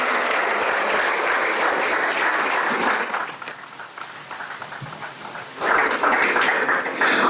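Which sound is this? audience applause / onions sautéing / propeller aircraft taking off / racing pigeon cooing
audience applause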